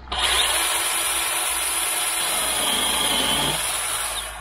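A DeWalt DCMPS567 cordless pole chainsaw runs at high speed while cutting through a tree branch, a loud steady whine that starts abruptly, holds, then drops in pitch slightly near the end as the cut finishes.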